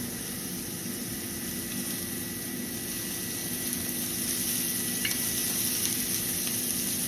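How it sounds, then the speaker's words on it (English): Food sizzles steadily in a hot pan, a continuous soft crackling hiss with no talking. "You can hear that sizzle."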